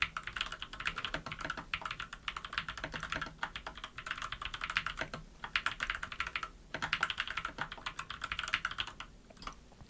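Typing on a computer keyboard while writing in Microsoft Word: rapid, close clicking keystrokes in steady bursts, with brief pauses between runs and no talking.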